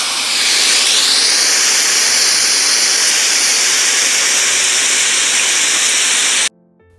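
A dense, steady hiss of heavy rain pours continuously at close range, then cuts off abruptly near the end.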